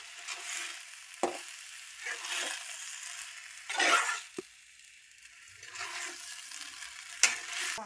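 A spoon stirs chopped onion greens and soaked dal in a pan with salt, giving several bursts of scraping and soft sizzling at close range, separated by quieter pauses, with no talk.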